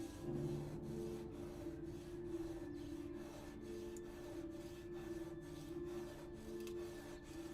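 A steel chisel for Maori wood carving (whakairo) is sharpened with even, repeated rasping strokes, each about half a second long, sounding soft and close in a quiet room.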